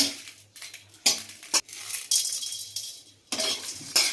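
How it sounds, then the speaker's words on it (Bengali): Spices dry-roasting in a kadai with dried chillies, kasuri methi and turmeric: bursts of scraping and rattling as they are stirred, with sharp metallic clinks between quieter gaps. "কড়াইতে মশলাটা ভেজে নেবো"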